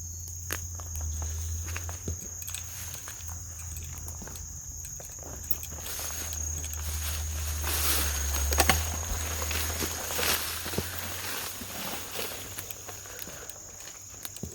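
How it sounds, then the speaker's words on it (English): Steady buzzing and whining of mosquitoes and deer flies in an outdoor setting, with a constant high drone, a low hum, and scattered rustling throughout. "Probably what you're listening to is full-grown mosquitoes and deer flies."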